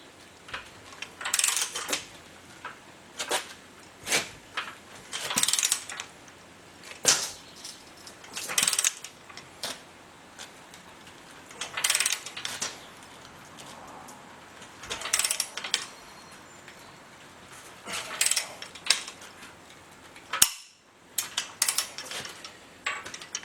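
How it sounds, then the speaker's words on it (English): Ratchet wrench clicking in repeated bursts as a ball joint nut on a Jeep Dana 30 front axle knuckle is slowly torqued to 100 foot-pounds, close and loud with short pauses between strokes. "So I'm going to just slowly take this up to 100 foot-pounds,"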